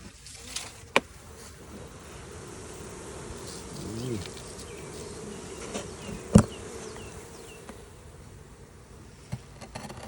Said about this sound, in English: Oh yeah, you got bees in here.